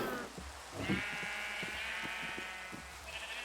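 Sheep in the Minecraft video game bleat several times over a steady background of falling rain, the calls wavering and fairly clear against the soft hiss.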